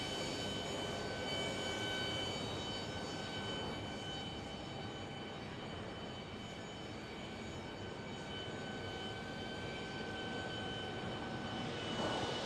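Boeing 737 MAX airliners arrive at Phoenix Sky Harbor from cities such as Salt Lake City, Las Vegas and St. Louis, giving a steady distant jet engine drone with faint tonal whine, alone and fairly quiet.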